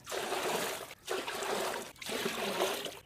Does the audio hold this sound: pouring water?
yes